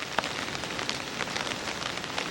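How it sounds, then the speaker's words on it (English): Rain from thunder showers just beginning on a rainy day at a maple syrup operation, a steady close patter of drops on surfaces with scattered sharper ticks, continuous and moderately loud throughout. "This is a rainy day. There are thunder showers just starting to occur"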